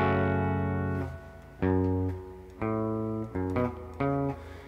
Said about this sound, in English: So normally the guitar would sound like this clean.